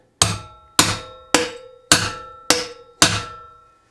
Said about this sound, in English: Slide your drift into the slot, give it a few hard taps to set it and spread it out.